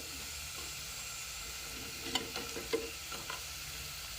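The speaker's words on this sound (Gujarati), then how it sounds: "ચિપ્સને આપણે ગોલ્ડન બ્રાઉન થાય ત્યાં સુધી તળવાની છે." Chips fry quietly in oil with a steady hiss, and a few light stirring clicks and crackles come near the end.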